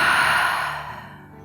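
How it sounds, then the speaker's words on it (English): A single deep exhale pushed out through the mouth during a yin yoga stretch, a breathy rush that starts loud and gradually fades away over about a second and a half, with no talking. "take a deep inhale and exhale through your mouth"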